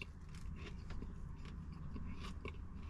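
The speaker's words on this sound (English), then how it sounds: "A lot of chewing going on though." Bites and chewing on a McDonald's Bacon Ranch McCrispy chicken sandwich on a potato bun, close and steady, with soft crunchy mastication sounds repeating through the clip and no talking.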